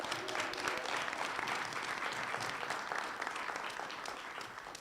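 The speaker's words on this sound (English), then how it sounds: "Please join me in applauding all the efforts of those who contributed to this today." A crowd applauds at an event, with dense, continuous clapping that holds steady throughout and fades only slightly at the end.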